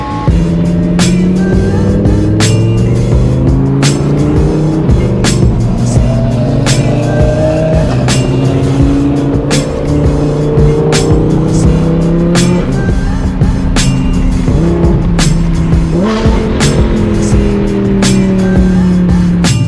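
An Audi R8 supercar drives hard with a loud, close engine that rises and falls through repeated revs and gear changes, sharp shift clicks punctuating the continuous roar, and no talking.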